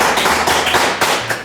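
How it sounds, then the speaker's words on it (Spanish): Loud, close congregation applause at a church service, a burst of dense clapping with thumping, crackling hits that stays full throughout. "ahí les damos un aplauso"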